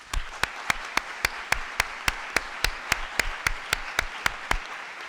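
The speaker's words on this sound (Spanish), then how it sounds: "yo arrancaría con un aplauso" A single person claps steadily at a mental health conference, about eighteen sharp, evenly spaced claps, close and moderately loud.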